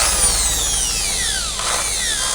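A power drill rethreading a nut whines steadily with a falling pitch as it slows, dips briefly, then picks back up, close and loud with no voices.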